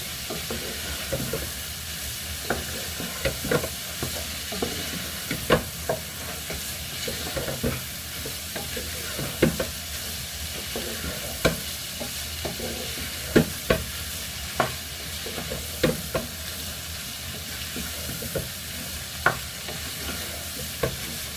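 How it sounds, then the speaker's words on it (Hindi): Mixed vegetables fry in a pan with a steady sizzle and hiss, and a spatula stirs them in sharp, irregular scrapes and clicks every second or two, close and alone with no talk. "अब इसको अच्छे से भून लेंगे हम।"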